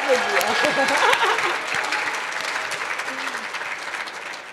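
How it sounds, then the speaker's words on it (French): An audience at a street food event applauds loudly for two chefs, dense clapping that starts strong and tapers slightly, with brief voices mixed in early on. "Je vous demande d'applaudir très fort, Alban Auvray et Hugo Riboulet"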